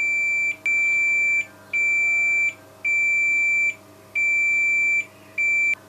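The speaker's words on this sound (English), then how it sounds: "if I plug my DMM in, you can hear that we have a connection still" A digital multimeter gives a continuity beep through a homemade CNC touch probe: a steady high-pitched electronic tone sounding in repeated bursts about a second long with short gaps, loud and close, no talking.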